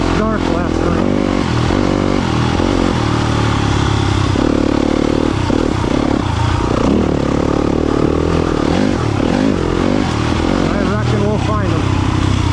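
A dirt bike on a wooded Michigan dirt trail, close and loud throughout, with its engine revving up and down in uneven surges and clattering over rough ground.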